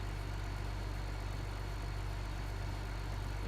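Tractor engine in Farming Simulator 2015 idles with a steady, low, unchanging rumble throughout, alone and without talking.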